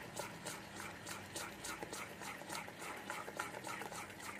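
A spoon beats salted ground lentil paste in a bowl, a faint, steady run of soft wet slapping strokes in quick even rhythm, close by and alone.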